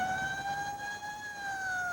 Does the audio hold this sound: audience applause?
no